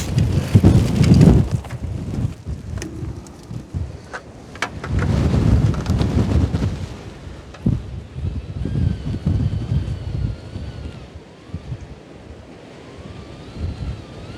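Strong outdoor wind of over 20 miles an hour buffets the microphone in heavy roaring gusts, with loud rumbling bursts that ease into quieter stretches and a faint high whine.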